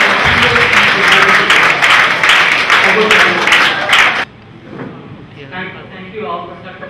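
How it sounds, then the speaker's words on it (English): An audience at a motivational school session applauds a guest speaker, a loud, dense clapping that runs for about four seconds and then cuts off abruptly, leaving quiet room sound. "A big applause,"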